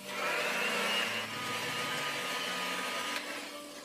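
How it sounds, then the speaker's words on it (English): An electric mixer whisks egg whites with sugar for an Esterházy cake, giving a steady, fairly loud motor whir that holds throughout, with no talk. "we start whisking until it's light and foamy"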